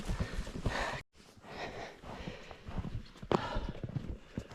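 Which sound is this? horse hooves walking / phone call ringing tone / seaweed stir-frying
horse hooves walking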